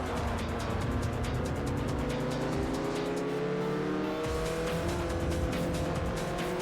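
A Ferrari race car in Forza Motorsport 4 roars along, its engine revving and shifting pitch with tire squeal as it corners, loud and continuous with no talk.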